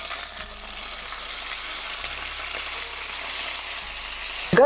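Tomatoes frying in a pan of olive oil with garlic and a sprig of basil, cooked over medium heat: a steady, close sizzle runs throughout with faint bubbling, ending in a brief louder clatter.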